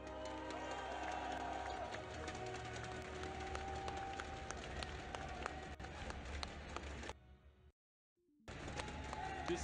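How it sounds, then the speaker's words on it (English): A home crowd in Singapore cheers and applauds at the 2017 Vainglory World Championship semifinals, a dense, loud, sustained roar of an esports arena audience that briefly cuts out near the end before resuming. "we want just one last opportunity to make some noise for our home crowd favorites"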